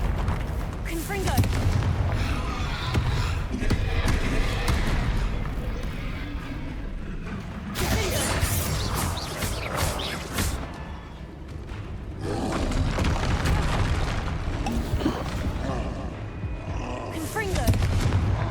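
Spell blasts and booming explosions from the Confringo spell in Hogwarts Legacy crash repeatedly in loud waves over a roaring game soundtrack, with a player shouting through the action.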